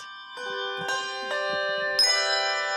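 Handbells played by a bell choir, four or five separate ringing strikes with long sustained tones that overlap and build, clear and fairly close with no talking.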